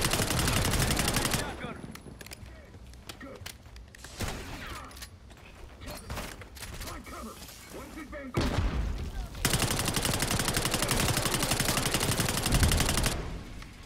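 Gunfire in Call of Duty Black Ops 6, with shotguns firing flaming rounds, comes as loud, close bursts and rapid automatic volleys with mechanical clatter between them, while voices talk over the fight.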